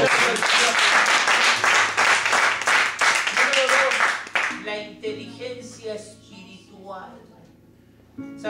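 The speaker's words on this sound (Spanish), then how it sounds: "Fuerte ese aplauso." A congregation at a Spanish-language church service in Geneva, Switzerland, gives loud, dense applause for about four seconds. It then breaks off into scattered claps and a speaking voice.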